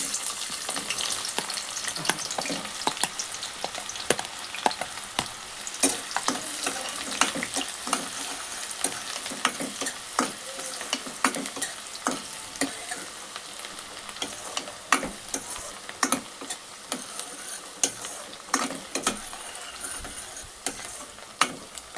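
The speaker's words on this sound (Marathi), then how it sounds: "कांदा चांगला भाजून घ्यायचा आहे" Chopped onion fries in oil with peppercorns and a clove while being stirred, giving a constant crackling sizzle close by, dotted with frequent spatula scrapes and light clicks against the pan.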